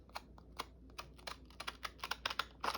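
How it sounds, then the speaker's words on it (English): Scissors snipping through paper along a drawn line for a collage, a series of short crisp cuts that quicken toward the end, close and fairly quiet with no talking. "I want to see how these scissors cut on a line."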